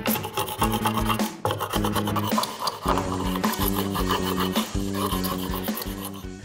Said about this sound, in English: I focus most of my glue scraping on just the bottom side